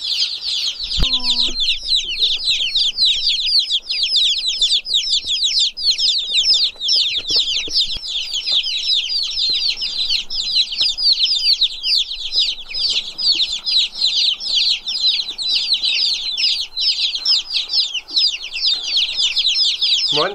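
A box of White Chantecler chicks peeps nonstop, dozens of high shrill chirps overlapping densely and loudly close up, with a brief lower squawk near the start.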